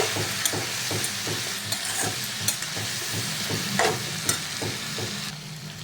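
Brinjal pieces stirred through sizzling curry in a pan, a steady fry hiss broken by repeated scraping clicks of the spoon, close and moderately loud with no talking.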